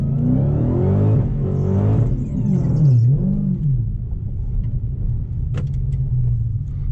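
A 2020 Shelby GT500 in track mode with traction control off, its 797-horsepower engine revving hard and accelerating, a loud, close, continuous roar rising and falling in pitch over several seconds with no talking.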